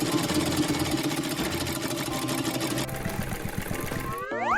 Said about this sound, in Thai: เราเนี่ยจะใช้ผ้าหลากสีแบบนี้เย็บให้เป็นหมอน